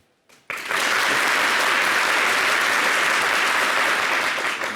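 A French television studio audience bursts into applause after a brief quiet pause, then keeps up a loud, dense, sustained wash of clapping with no one speaking over it.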